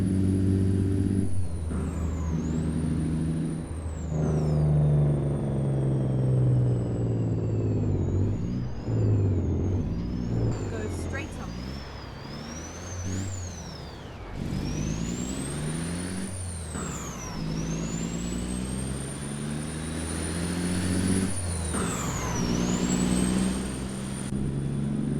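A simulated Peterbilt 350 semi-truck with trailer in American Truck Simulator, its engine droning and revving through gear changes with rising and falling whine, punctuated by air brake hisses, loud and continuous.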